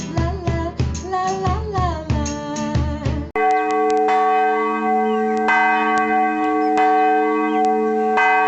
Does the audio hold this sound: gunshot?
no